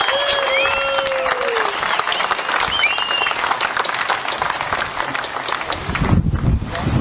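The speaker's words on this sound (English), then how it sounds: "Give yourselves a clap." A large outdoor crowd of farmers at a water protest rally in Canberra breaks into sustained applause with scattered whistles and cheers, steady and loud throughout, with wind buffeting the microphone near the end.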